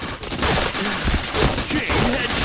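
Rapid bursts of video game gunfire during a headshot, dense crackling shots packed tightly over a couple of seconds, loud and close with no voices.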